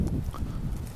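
A horse moves about while haltered, with soft, close hoof steps landing irregularly over a low rumble, no talk.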